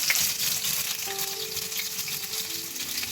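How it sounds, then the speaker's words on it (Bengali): Bitter gourd pieces fry in hot oil, giving a dense, close sizzle with a louder burst at the start and brief faint tonal hums partway through. "এবার এই গরম তেলের মধ্যে উচ্ছেগুলো দিয়ে দিচ্ছে"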